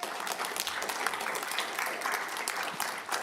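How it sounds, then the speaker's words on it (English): A room at a county board of supervisors meeting fills with steady, dense applause, many hands clapping continuously at moderate volume for several seconds with no pause. "can we get a round of applause?"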